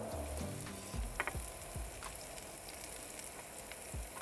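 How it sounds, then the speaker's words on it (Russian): Oil crackles and sizzles steadily in a hot pan as mushrooms fry in vegetable oil, with a few low thumps and clatters of food being moved at the start. "мы можем обжаривать грибы"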